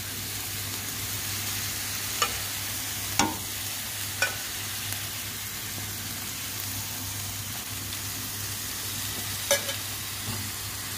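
Tuna and tomato sizzle steadily in a frying pan, a constant hiss with a few soft knocks and scrapes from stirring, close and moderately loud, no talking.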